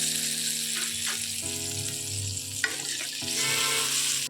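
Water poured into sizzling spice masala in a pan for a thin Bengali tengra fish curry, a loud hiss and bubbling that swells and dies back over a few seconds, close and without talk.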